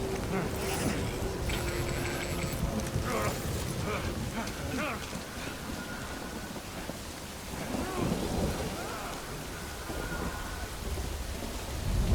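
Steady rain and rolling thunder from the video game Death Stranding fill the scene, a dense continuous downpour with deep rumbles swelling throughout, with faint voices in places.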